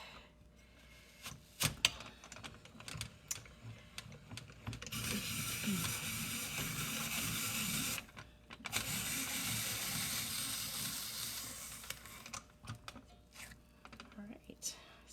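A hand-cranked apple peeler and corer works through apples with quiet ratcheting, clicking mechanical turns in two sustained stretches, separated by brief pauses and scattered knocks, heard fairly faintly at close range.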